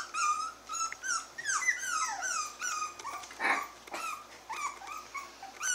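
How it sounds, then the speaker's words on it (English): A five-week-old puppy gives high, wavering whimpers and cries in a run of repeated calls, broken by one sharp bark-like yelp midway, close and fairly loud. "What are you barking at, little girl?"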